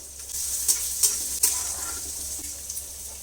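Chopped onion and green chili frying with mustard seeds in a pan for a stuffed pointed gourd dish, a steady close sizzle with several sharp crackles and pops near the start.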